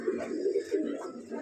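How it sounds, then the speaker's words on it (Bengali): Racing pigeons in a loft give a soft, low, throaty coo, a brief rolling murmur repeated in quick pulses close to the listener. "আর এই যে মাদিটা, এটাই ভালো লাইনের কবুতর।"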